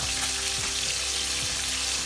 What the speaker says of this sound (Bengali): এখন আমি তেজপাতা পাতাগুলো দিয়ে দেব